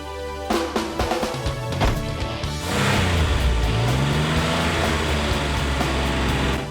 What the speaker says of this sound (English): let me have my guy take it for a test drive real quick